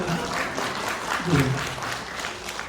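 Scattered audience applause at a forum on improving worker pay, light and fairly distant clapping, with a voice speaking over it.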